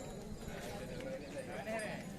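Bullocks walk at a Saturday cattle market in Vaijapur, their hooves making faint, uneven clip-clops on the ground beneath a low murmur of distant voices and market bustle.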